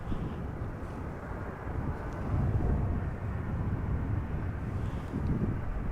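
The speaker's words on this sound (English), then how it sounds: "This is KLM flight 1700 arriving from Madrid, Boeing 737-800" A KLM Boeing 737-800 arriving at Amsterdam Schiphol in gusty crosswind makes a low, rumbling jet roar that swells slightly midway, mixed with wind buffeting on the microphone and no voices.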